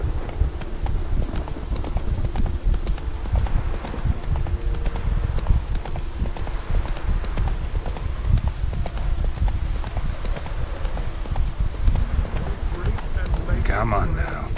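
Roach, a horse in The Witcher video game, gallops with a steady, continuous clip-clop of hooves throughout, close and loud, with voices talking over it.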